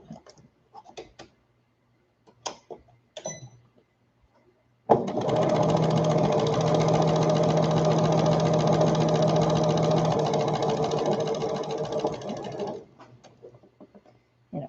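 A sewing machine stitches quilt pieces together, running steadily for about eight seconds with a close whirring hum. A few soft handling clicks and taps come before it starts.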